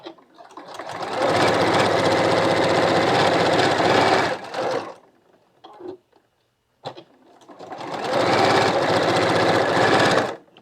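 A sewing machine stitches a quilt block seam in two steady, loud whirring runs of about four seconds each, separated by a short quiet pause with light handling sounds.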